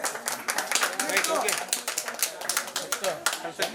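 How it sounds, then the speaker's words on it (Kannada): Scattered group clapping at a 25th anniversary gathering of a padayatra association in Hubli, uneven claps mixed with voices talking over them at moderate loudness. "ಚಪ್ಪಾಳೆ"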